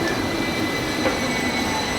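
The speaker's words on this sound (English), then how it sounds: "Look at how cool these two-story trams are though." A Hong Kong double-decker tram passes close by on a city street, a loud, steady rolling rumble with a faint high metallic whine held throughout, with no talking.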